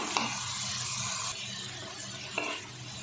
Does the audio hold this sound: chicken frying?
yes